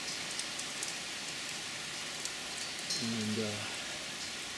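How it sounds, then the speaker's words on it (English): Heavy summer rain pours down in Manchester, St. Louis County, Missouri, as a steady, dense hiss of falling drops. A voice speaks briefly partway through. "This is the rainstorm we're getting on July 1st in St. Louis. It's pretty heavy."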